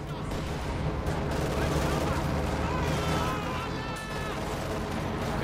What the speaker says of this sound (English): And he's only got his machine gun to defend itself with.